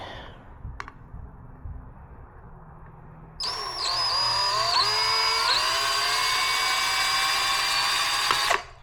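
A Unibit step drill bit bores into material with a loud, steady high-pitched whine that starts abruptly after quiet rustling, shifts pitch slightly as it cuts, then stops sharply.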